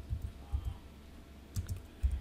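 Keys clatter on a computer keyboard as Python code is typed: short clusters of soft, close keystrokes with brief pauses between them, and no voice.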